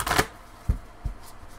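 Tarot cards are shuffled close by in a quiet room, with a soft riffling burst and then a few light taps and slaps as the deck is squared.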